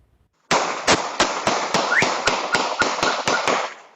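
A security camera in a Southside San Antonio neighborhood near Oxana and Creek Place picks up a rapid series of about a dozen gunshots. The sharp cracks come at a steady, fast rhythm and are loud and echoing over the background noise.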